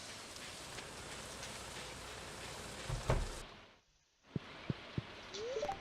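Rain falls steadily in the farming video game Stardew Valley, a soft continuous patter with a brief dropout in the middle, then a few sharp drips and small game sounds once it resumes.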